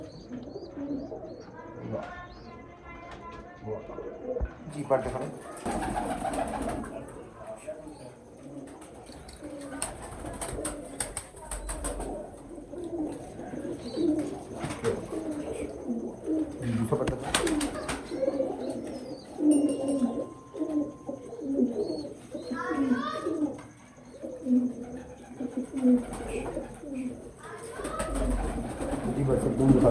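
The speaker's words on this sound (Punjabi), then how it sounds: "ਵੱਡੇ ਸਿਰ ਦਾ ਕਬੂਤਰ" A pair of big-headed Bankay pigeons coo in soft, repeated, throaty phrases, close by. Someone talks over much of it, so the cooing sits partly under his voice.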